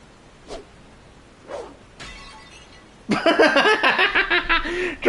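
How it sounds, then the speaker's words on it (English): An urn shattering in Final Fantasy 14, a loud burst of breaking crockery with scattering, tinkling fragments after a few faint earlier knocks, ending with a final sharp hit. "Dramatic urn shattering noise"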